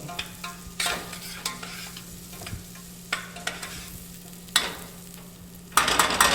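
Spoon stirring rice with herbs in a cooking pot, a series of scraping, rustling strokes at irregular intervals with a faint sizzle underneath, close and fairly quiet, ending in a denser burst of stirring.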